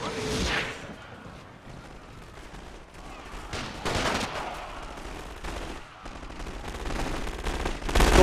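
Gunfire in The Great War: Total War WW1 mod, with troops under heavy fire in a siege assault: continuous crackling rifle and machine-gun volleys with louder bursts rising and falling over the whole stretch.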